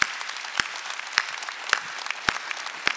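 A Korean church congregation at Sunday worship claps in steady, sharp, evenly spaced beats over a softer bed of scattered applause, fairly close.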